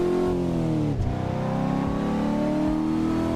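A car engine revs loudly in a driving video game, a steady mid-pitched drone that climbs and dips, briefly cutting out before roaring back and holding on without any talking.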